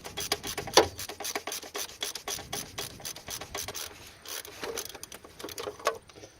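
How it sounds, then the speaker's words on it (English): A 1 1/4 socket on an extension turns the oil filter cap on a 2005 Chevrolet Cobalt, giving a quiet series of rapid ratcheting clicks and scraping rubs, close and uneven. "With a 1 1/4 socket and an extension, we're going to go ahead and pull off the cap and the cylinder holding the filter."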